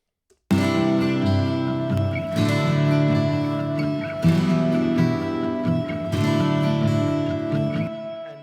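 Several layered tracks of a Taylor acoustic guitar strum full chords together, forming a dense, sustained wall of strings that swells with each new strum every couple of seconds, with no piano and no voices.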